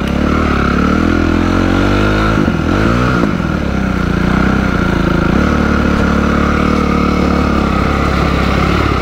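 An enduro motorcycle engine runs steadily and close by, its pitch rising briefly as it revs, then settling back into a loud idle with no talking.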